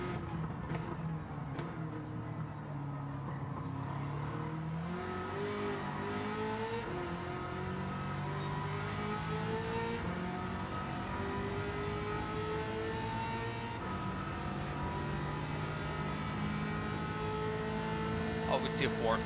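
A car engine in Gran Turismo 7 revs and climbs through the gears, its pitch rising and falling in repeated sweeps that stay at moderate level beneath a steady bed of game audio.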